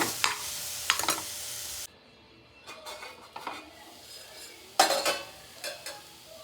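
Beetroot cooking in a pan is stirred in short bursts of scraping and clinking against a low sizzle, with brief quiet gaps between strokes and no voices.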